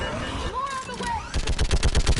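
Rapid gunfire rattles in a Mass Effect 3 firefight, a fast regular burst of close shots that follows a moment of voices and battle noise.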